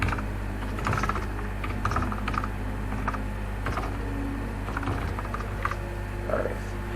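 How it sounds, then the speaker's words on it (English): Keys tapped on a computer keyboard in short scattered bursts, moderately close over a steady low background hum, with no talk. "Let me type"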